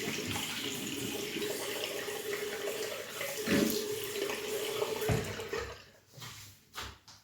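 Lukewarm water runs steadily from a bathroom tap to wet shaving soap, a close and constant splashing that sputters and breaks up near the end.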